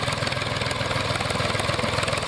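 A tractor harvesting potatoes by turning up the soil on a small farm, its engine running in a steady loud idling drone close by, with no talk.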